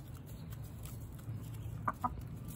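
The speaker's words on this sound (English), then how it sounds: "So those are Wilmington Manor's chickens." Backyard chickens at Wilmington Manor cluck softly in a quiet outdoor setting, with a couple of short, distinct clucks standing out near the end over low background noise.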